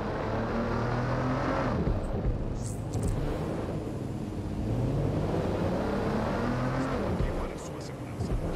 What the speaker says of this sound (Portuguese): o som dos carros desse jogo tá muito bom